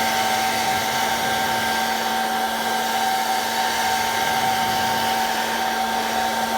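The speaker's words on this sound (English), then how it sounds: "use your hair dryer" A hair dryer blows steadily at close range, a constant whooshing hum with a whining motor tone that never lets up.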